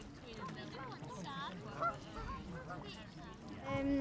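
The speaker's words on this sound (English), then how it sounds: "it's just amazing how many swans there are" A large flock of swans at Abbotsbury Swannery, where children feed them wheat, honking and calling continuously from close and farther off, with background voices mixed in.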